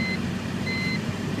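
A 2006 BMW Z4 3.0si seatbelt warning chime sounds as two intermittent electronic tones over a low steady engine idle inside the car.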